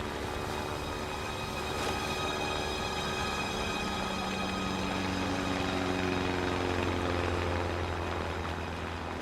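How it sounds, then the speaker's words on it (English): A search plane approaches over the Tasman Sea, a steady droning engine hum with sustained tonal lines that holds at an even, moderately loud level throughout, with no voices. "I see this plane coming towards me."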